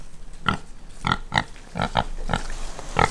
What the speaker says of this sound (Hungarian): Jön a malac.